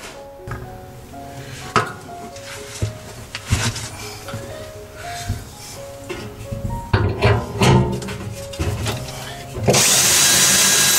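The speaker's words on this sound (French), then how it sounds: "Pour percer mes trous dans le tonneau" A drill bores holes in a wooden barrel in short bursts of whirring, with clunks and handling knocks between them, ending in a sustained loud grinding run.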